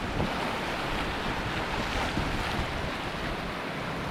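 Rough ocean waves slap against a small fishing boat in strong monsoon wind, forming a continuous loud wash of broadband water and wind noise with no voices.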